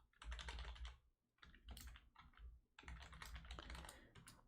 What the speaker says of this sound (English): Hang on, let me type it in.